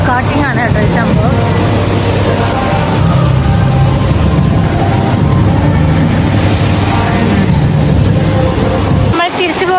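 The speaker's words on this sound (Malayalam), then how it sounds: "ഇവിടെ ഗോ കാർട്ടിംഗ് ആണ് കേട്ടോ ഈ സംഭവം" Go-kart engines droning and whining at a go-karting track beside a Qatar water park, a dense, steady mechanical roar with rising and falling pitch under background voices, then cutting off abruptly near the end.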